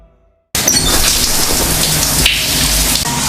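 Heavy rain pours down hard and close with a rolling thunder rumble in a horror film scene, a dense continuous roar that bursts in abruptly after a brief near-silence.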